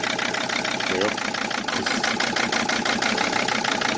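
Shorty's car engine idling rough with fuel injector number five unplugged, a steady, close mechanical drone with an even, pulsing beat throughout.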